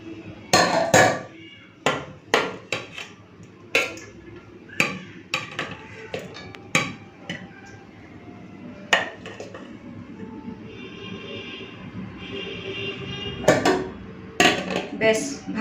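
Dishes clatter as rice is served onto a plate, with a series of sharp scrapes, knocks and clinks of a spoon against metal at an irregular pace, close and moderately loud, with some quiet talk.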